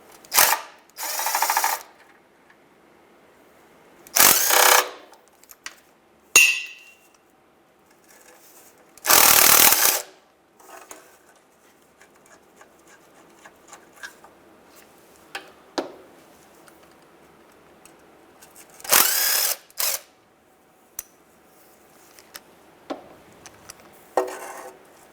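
A ratchet with a swivel and 1/2 inch socket works loose oil pan bolts on a 1992-1996 Ford F-150, in short separate bursts of clicking and grinding spaced by quiet pauses and faint clinks.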